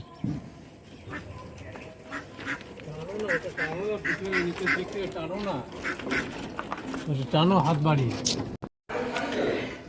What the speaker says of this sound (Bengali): কত হাঁস এখানে